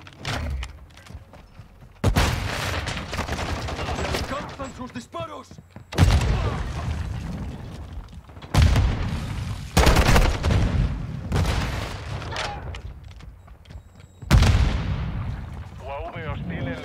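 Gunfire and heavy explosions from Call of Duty: Modern Warfare II, loud bursts of shots and booms striking every few seconds with quieter stretches between, mixed with game voices talking.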